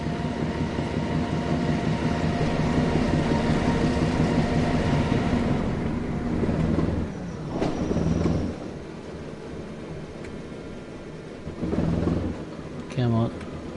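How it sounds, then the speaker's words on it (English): A struggling diesel locomotive in Train Sim World 4 strains to move off, with a loud, continuous low engine drone and rumbling rail noise, and a few brief louder surges toward the end. "Oh, this train is struggling. The locomotive is struggling."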